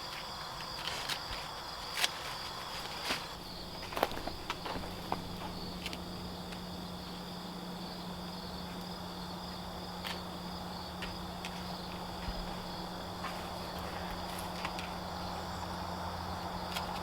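Steady grasshopper chirring fills an outdoor grassy field, with a continuous high buzzing drone and a few faint rustles and ticks scattered throughout.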